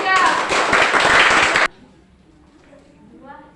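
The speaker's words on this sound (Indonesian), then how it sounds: "berikan tepuk tangan untuk kelompok 3" Classroom of students clapping for a group presentation, a loud burst of dense clapping that stops abruptly, followed by quiet room murmur and faint speech.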